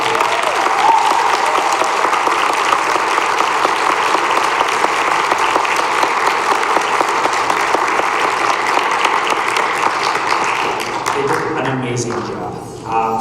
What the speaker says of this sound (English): could we have one more round of applause for them?